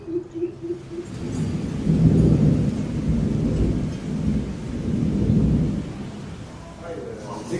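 Thunder rolls through a rainy storm during a downpour in rural Thailand, deep rumbles swelling and fading over steady rain and gusts, loud and close, with no speech over it.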